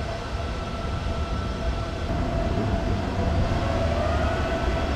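A public 350 kW CCS fast charger spins up its cooling fans while charging a Tesla through a CCS adapter, giving a steady, fairly loud whirring hum with faint tonal whine throughout, no talking.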